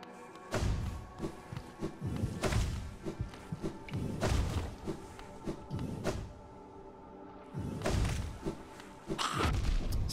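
Thuds and muffled booms from exploding enemies in Hollow Knight land in an irregular series, several heavy impacts close together and loud, with no voice over them.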